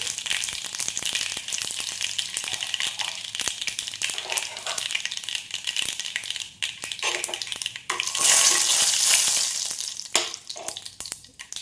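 Cinnamon, cloves and a bay leaf fry with popping mustard seeds in hot oil for a chickpea kurma, giving a loud continuous sizzle with crackles and occasional stirring scrapes close by.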